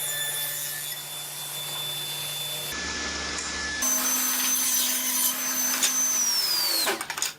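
A table saw cutting a rabbet in wood for custom moulding: a steady whining motor hum shifts as the blade bites, then the pitch drops and the sound tapers as the cut ends, loud and alone.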